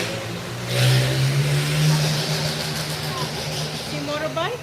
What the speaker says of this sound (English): You see the motorbike? He must be late for work. Driving that fast.